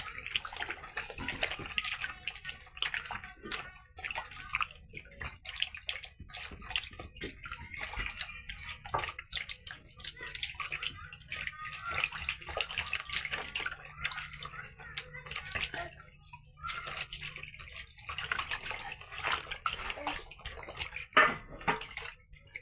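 Running water splashes steadily as food is rinsed in plain water after a salt-water wash, a continuous close wash with drips and gurgles and no talk.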